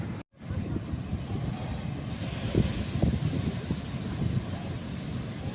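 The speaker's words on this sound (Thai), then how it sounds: "วันนี้คือ ลมแรงนะคะ ลมแรงมากเขาก็เลยไม่ให้ ไม่ให้คนลงเล่นน้ำเนี่ยค่ะ" Strong wind buffets the microphone at Stanwell Park beach in New South Wales, a steady low roar with gusts and possible surf underneath, continuous throughout with no talking.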